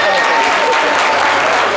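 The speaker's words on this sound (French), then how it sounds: "Applaudissez" A studio audience on a French-language show featuring the group Magic System bursts into applause. The clapping is loud and dense through the brief span, with voices faintly mixed in.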